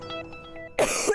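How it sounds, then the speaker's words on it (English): A single harsh cough bursts out loud and close after a quiet stretch, with a short rough tail. "a cough that just won't quit"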